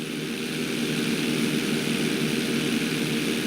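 Propeller airplane engine in Grand Theft Auto V during flight school, a loud, steady droning buzz that holds constant throughout with no voices over it.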